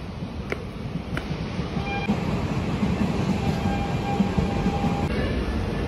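A train rumbles at a railway station with a steady, moderately loud mechanical roar and rattle, a few faint clicks early on, with no voices over it.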